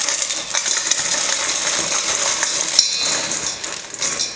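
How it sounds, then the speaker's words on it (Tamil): Crunchy fried murukku snacks broken by hand into a Tamil mixture, with a steady crisp crackling and snapping close up, several sharper snaps standing out, and no talking. "நம்ம ரெடி பண்ணியிருக்கிற முறுக்கை வந்து இப்போ உடச்சி சேர்த்துக்கலாம்."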